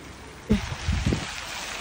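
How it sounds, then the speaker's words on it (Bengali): Steady rain hisses in the background, with a few louder drops and splashes landing nearby. "বৃষ্টি পড়তেছে, ঝমঝম বৃষ্টি।"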